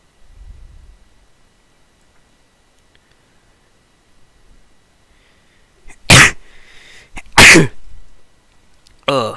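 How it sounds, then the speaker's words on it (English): Two loud, sharp sneezes close to the microphone, a second apart, in an otherwise quiet room with faint rustling before them. "Me sneezing, yeah, just sent the bar right up to the max."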